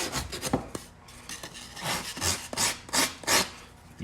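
A four-in-one rasp shapes a block of yellow foam with repeated rough rasping strokes, close and fairly loud, in an uneven back-and-forth rhythm with no talking.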